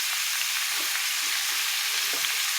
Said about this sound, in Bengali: এঁচোড় পেঁয়াজ সব একসঙ্গে ভাজবো